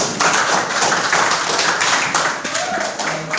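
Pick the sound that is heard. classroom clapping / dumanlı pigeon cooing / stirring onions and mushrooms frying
classroom clapping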